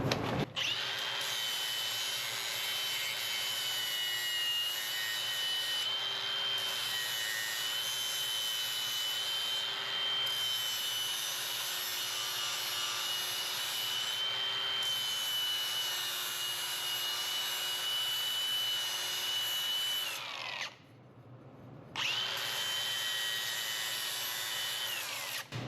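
An angle grinder runs continuously on a metal patch, squaring its edges in a workshop, a steady high whine with a few brief dips and one short pause near the end.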